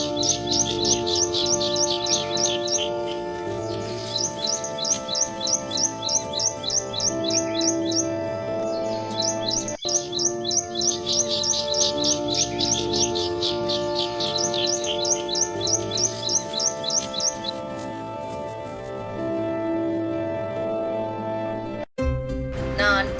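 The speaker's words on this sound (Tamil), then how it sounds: "ஒரு குருவி குஞ்சின் ஒலி கேட்டது." A sparrow chick chirping: rapid bursts of high, thin peeps repeat in quick runs, clear and fairly close, over a soft steady musical background, ending with a brief click near the end.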